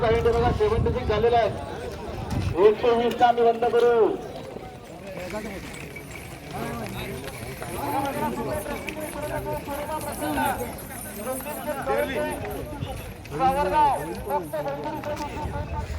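Bullocks' hooves pound rapidly over ground as racing bullock carts pass amid a noisy crowd, with people shouting and talking throughout.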